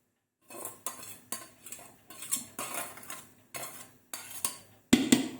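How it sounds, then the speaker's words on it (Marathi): Fried coriander and spice mix being tossed through poha chivda in a metal pan: a steady run of crisp scraping and clinking strokes from a spoon, about ten close, rhythmic sweeps, ending in a louder clatter; no talking. "कोथिंबीर आपण पोह्यावर पसरून त्याच्यावर मसाला घालून चिवड्यामध्ये मिसळून घ्यायची आहे."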